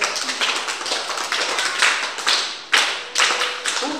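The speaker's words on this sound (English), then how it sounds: "Clap for yourself." A classroom of children at a Jolly Phonics training session claps for themselves in quick bursts, the clapping loud and close with several sharp restarts.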